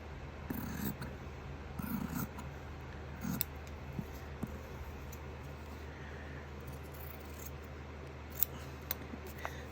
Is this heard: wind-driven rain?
no